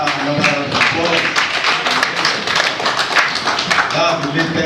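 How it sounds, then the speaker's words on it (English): Applause from an audience at a pain and palliative medicine course, mixed sharp claps and tapping spread across the whole stretch, fairly loud and close, with voices faintly under it. "Let's give another applause"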